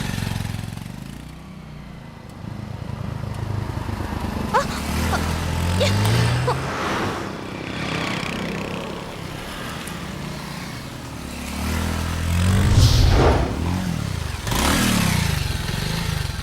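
A two-wheeler's engine starts and then runs as it rides off, a steady low putter with a couple of louder revving swells, while people talk nearby.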